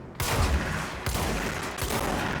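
Shotgun fire in a video game: a loud blast at the start, another near one second and a third near 1.8 seconds, each with a sharp onset and a sustained rumbling tail.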